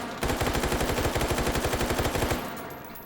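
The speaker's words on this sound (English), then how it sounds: "so it is very controllable in full auto." A Stoner 63 rifle chambered in 5.56 NATO fires full auto in a video game, a steady rapid burst of roughly two seconds of evenly spaced shots, loud and close, ending abruptly.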